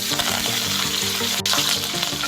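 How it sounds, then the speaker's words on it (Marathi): Garlic cloves, curry leaves and green chillies sizzle steadily in hot tempering oil with mustard seeds, cumin and asafoetida, a loud continuous crackling fry with a faint stirring scrape, no voices. "आता फोडणीत घालूया ठेसलेल्या लसणाच्या पाकळ्या कडीपत्ता आणि हिरवी मिरची"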